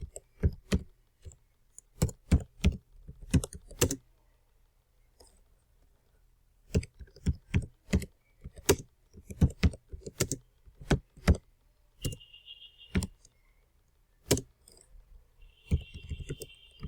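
Scattered bursts of sharp key clicks from typing on a computer keyboard, quiet and close, with pauses between clusters and a faint brief electronic tone near the end.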